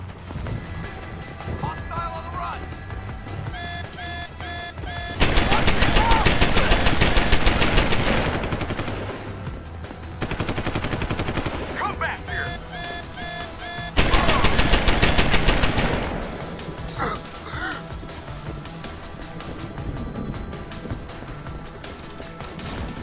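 Automated turret in Deus Ex: Human Revolution unleashing two loud, sustained bursts of machine-gun fire, each lasting a few seconds, separated by a shorter burst, over steady game ambience with crashes and impacts.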